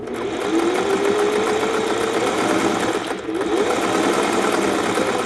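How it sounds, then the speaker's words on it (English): A Singer 401A sewing machine stitching fast, a loud continuous mechanical whir with rapid needle rhythm, briefly dipping around the middle before resuming at full speed. "And you can see I'm sewing pretty fast"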